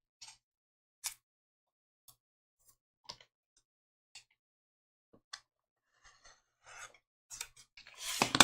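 Quilt block edges on a Mariner's Compass quilt top being trimmed with a cutter, a series of faint, sparse scraping ticks spaced about a second apart, building into louder rasping strokes at the end.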